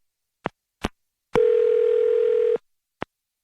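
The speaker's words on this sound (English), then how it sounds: "I'm going to dial his phone number right now" A telephone dial tone sounds while a number is being dialed: a few short clicks, then a loud steady tone held for about a second, then another click.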